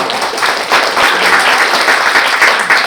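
Audience members at an education forum in Yeonggwang clap to welcome an invited guest, a close, loud burst of many hands that swells slightly and holds steady for a few seconds.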